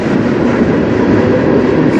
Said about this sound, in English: Another train right behind there, coming up, going by.